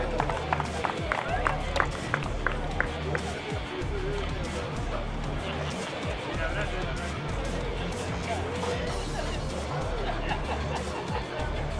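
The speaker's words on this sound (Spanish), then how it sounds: "El aplauso para Marianito." Clapping for the third-place podium finisher at a Citroën Competición Clase B race awards ceremony, scattered and strongest in the first few seconds, then fading into crowd murmur under a loudspeaker announcer's talk.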